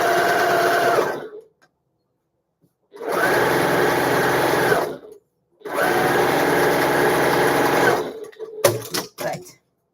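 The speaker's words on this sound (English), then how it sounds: "Now, I like it to do top stitch as I go along because I think things look a lot better." A sewing machine runs top stitching on a patchwork tote bag made from upcycled embroideries, with three sustained whirring bursts separated by short pauses. Close clicks and handling noises follow at the end.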